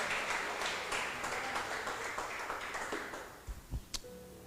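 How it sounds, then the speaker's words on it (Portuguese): A church congregation applauding, a dense wash of many hands clapping that gradually thins and fades out, ending with a few scattered bumps and a single bright ping. "Isso, irmã, aplaudam o nosso Senhor"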